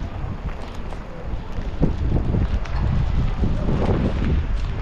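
Steady wind buffeting a microphone during rain in Sidi Bel Abbès, Algeria, a constant low rumble with gusty swells and no voices.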